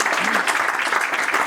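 Audience applause for a performer at a cultural evening in Rennes, a steady wash of clapping from a crowd with no pauses.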